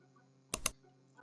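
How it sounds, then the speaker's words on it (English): Two quick clicks of keys pressed together on a computer keyboard for a Windows plus R shortcut, sharp and close in an otherwise quiet room, followed by faint low background hum. "first press Windows plus R keys on the keyboard"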